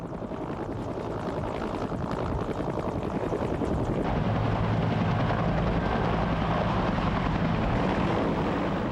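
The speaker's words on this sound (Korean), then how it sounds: "본격적인 공격용 헬리콥터로 개발돼 탄생한 것이 바로 이 코브라 헬기다" An AH-1 Cobra attack helicopter drones loudly and steadily with a rhythmic rotor chop, the sound thickening and growing heavier about halfway through.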